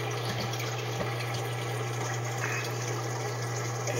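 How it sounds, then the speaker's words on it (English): Water pours down through a clear glass bell siphon in a steady, continuous rush with a low hum underneath, constant throughout. "You see the water flowing down,"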